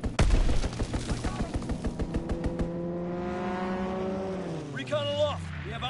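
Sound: aircraft strafing run gunfire in WW2 video game

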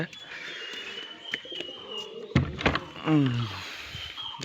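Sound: pigeons cooing

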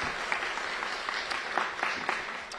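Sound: audience applause for Mayor Muriel Bowser

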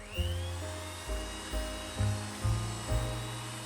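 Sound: electric mixer whipping ingredients into foam

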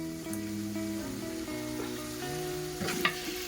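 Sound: cumin seeds sizzling as they are added to hot oil

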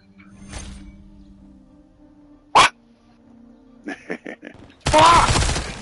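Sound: dog barking

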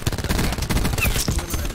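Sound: Thresher gunship attacking in video game Call of Duty Black Ops 4

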